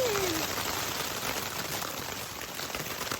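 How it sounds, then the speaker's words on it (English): Steady rain patters outside a tent at a camp on the Appalachian Trail, an even, close hiss of drops on fabric filling the whole moment without a break. "It's raining."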